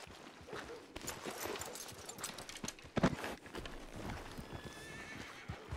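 Horse hooves clip-clopping in a western video game, a steady, close run of hoof beats with a whinny partway through, moderately loud, and faint background sounds.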